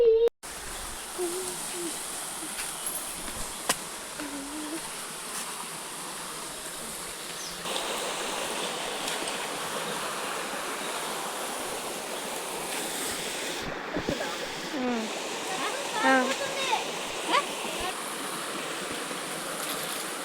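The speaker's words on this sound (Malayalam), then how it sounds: "വെള്ളത്തിന്റെ സൗണ്ട് നല്ല ഉണ്ട് വെള്ളം കുറഞ്ഞിട്ടില്ല കേട്ടോ" A village river runs steadily during a sunny break in the rainy season, the water's rush heard fairly far off as a continuous, soft, even wash with faint insect buzz in the background.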